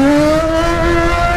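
A Yamaha XJ6 motorcycle engine revs close and loud, holding a strong buzzing tone whose pitch climbs slowly across a brief burst, with no voices over it.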